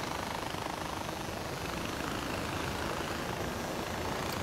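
A helicopter sets down near a bell tower in the Far Cry 4 game, its rotor and engine a constant loud, dense roar that fills the whole stretch without a break.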